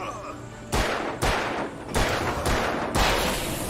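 Gunfire in the video game Alan Wake Remastered, four or five loud, heavy shots spaced about half a second apart, each one ringing out into the next, with a voice talking faintly underneath.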